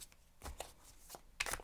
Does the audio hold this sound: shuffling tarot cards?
yes